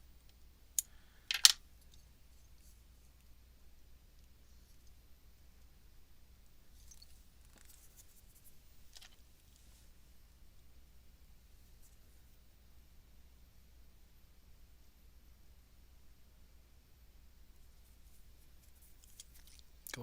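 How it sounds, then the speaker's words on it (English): Scissors trim fly-tying material for a black and purple streamer at the tying bench, a few faint, isolated snips scattered through long stretches of near silence. "Rest the scissors and just do a little notch"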